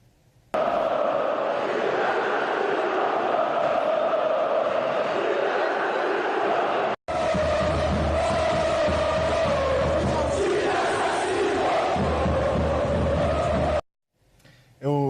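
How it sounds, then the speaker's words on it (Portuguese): Fluminense supporters chant together in a football stadium, a loud, dense mass of voices that carries on with only a brief break, rhythmic and sustained. "um canto ontem que foi entoado pela torcida do Fluminense"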